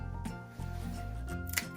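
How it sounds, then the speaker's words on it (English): A couple of quick, crisp snips from small scissors cutting fabric, close up, over a steady hum of background music. "put a little tiny snip"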